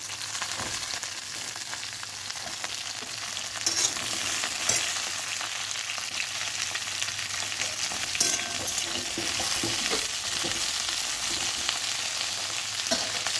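Pointed gourd and potato fry in a pan with a dense, continuous close sizzle, punctuated by occasional scrapes and clinks of stirring.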